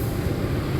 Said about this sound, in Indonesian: Langsir lepas dari rangkaian kereta api Kuto Jaya Selatan dan tinggal tersisa CC201-nya.